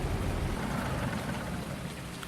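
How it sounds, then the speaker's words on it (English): Steady rain pours in a Farming Simulator 19 game, a dense, even hiss with a low rumble underneath that continues unbroken. "Why is this rain like not stopping, man?"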